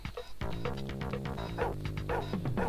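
A dog barks repeatedly in the Amiga version of the Paperboy video game, a run of short yapping barks layered over bright, chiptune-style game music.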